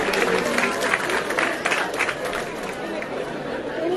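Crowd at a school futsal award ceremony for national under-14 girls' champions, with steady chatter and scattered clapping as each player is greeted, fairly loud and continuous.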